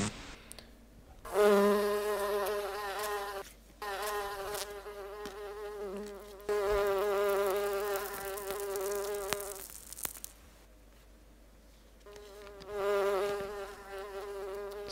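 A fly buzzing close and loud in long bursts that stop and start, with short silent gaps between them.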